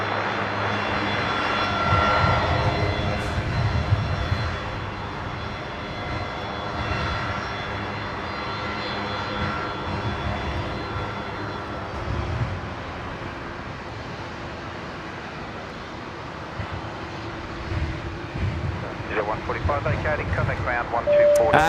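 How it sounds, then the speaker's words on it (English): An Air New Zealand Boeing 787-9 Dreamliner arriving from Auckland lands on runway 19 right at Brisbane, a sustained jet engine roar with whining tones, steady and moderately loud, while people talk. "The Air New Zealand Dreamliner. The 787-9 coming in from Auckland there over on 19er right"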